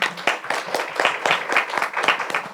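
Applause from a panel audience at a journalism festival, a dense patter of many hands with uneven swells and dips, close and moderately loud, with no talking.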